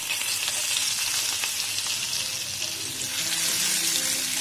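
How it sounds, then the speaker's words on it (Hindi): Garlic frying in a hot pan as the base for a chicken dish, a steady loud sizzle with faint crackles throughout, no talk. "इसमें अब हम डाल देंगे लहसुन।"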